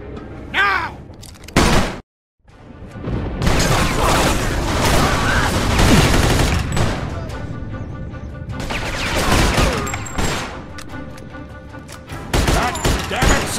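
Heavy gunfire erupts in a Mafia 2 shootout, dense loud bursts of shots filling nearly the whole stretch after a brief silent gap, with game dialogue shouting faintly mixed into the din.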